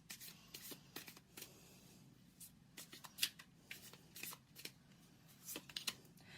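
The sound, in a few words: tarot cards being shuffled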